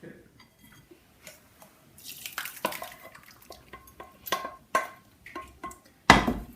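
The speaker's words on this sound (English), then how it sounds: "by using a wooden spoon, you push all of the juice and all of the flesh through the sieve" A wooden spoon pushes cooked gooseberries through a sieve, making irregular scrapes, taps and clinks against the mesh and bowl. The sounds come in close, uneven bursts and finish with one louder knock.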